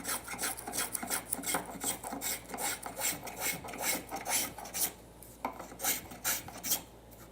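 A wooden table apron arch is smoothed by hand with a rasp or file, giving steady, rhythmic back-and-forth scraping strokes, close and fairly loud, with a short pause partway through and no talking.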